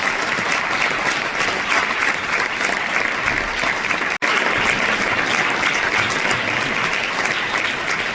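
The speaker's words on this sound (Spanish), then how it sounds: "Recibamos con un fuerte aplauso a nuestra pregonera, África Crespo Mazuecos." Steady, dense applause from an audience at a Holy Week proclamation in Manzanares, Spain, welcoming the speaker, continuous clapping with a brief cut midway.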